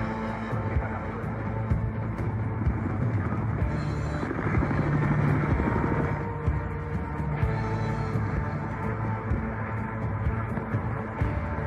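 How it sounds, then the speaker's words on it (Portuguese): Helicopter chasing the player in the video game Battlefield Hardline, a pulsing, heavy rotor drone that swells louder in the middle and then eases back, continuous throughout. "Cara, eu preciso fugir desse helicóptero."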